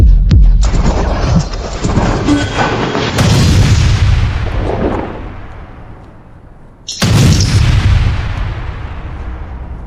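Gunfire erupts during a dramatic confrontation scene as a loud, dense barrage of booming shots with heavy rumble. It fades briefly, then a second sharp burst cuts back in.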